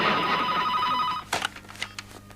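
A telephone bell rings steadily in a home for about a second, then cuts off abruptly, followed by faint handling clatter.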